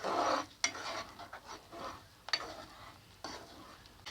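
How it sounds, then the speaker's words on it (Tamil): Poha rava being stirred into boiling water in a pot over a lowered flame, soft scraping strokes and light clinks in an irregular rhythm, fairly quiet and close, with no talking. "இந்த ரவையை இதோட சேர்த்து கொட்டி கிளறி விட்டுக்கலாம்."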